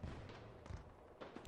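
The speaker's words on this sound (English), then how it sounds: "an explosion teared through the transporter" An explosion tears through a transporter in an audio drama, heard as a few quiet, low booming rumbles over a soft background.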